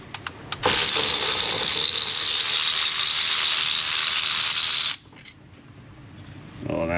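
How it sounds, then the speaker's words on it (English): A ratchet tool removes a pulley from a car engine, starting with a few clicks, then a loud continuous mechanical whir for about four seconds, stopping abruptly before quieter handling noise. "I'm just gonna take this pulley off."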